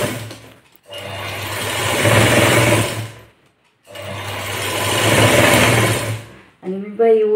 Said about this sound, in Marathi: आधी आपण बाही शिवून घेऊ आणि त्यानंतरच डिझाइन काढू।